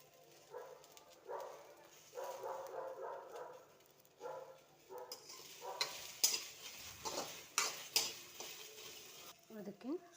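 Cut okra fries on a tawa in a little oil with quiet sizzling and scraping stirs, growing busier in the second half with sharp clinks, while a voice speaks softly in the background.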